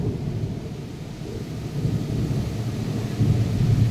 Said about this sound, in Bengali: মেঘ ডাকছে, কেউ বাইরে যাবে না